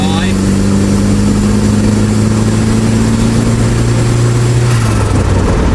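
A Mazda MX5 engine pulls hard from low speed in a high gear: a loud, steady, droning hum that holds an even pitch, close and continuous throughout.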